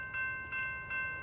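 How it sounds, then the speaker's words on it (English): A southbound Amtrak Talgo train passes the Cowlitz Ave crossing, with steady tonal horn-like ringing and three rhythmic rumbling pulses of wheels over the rails, heard at moderate level without voices. "Southbound cargo train head to Kelso,"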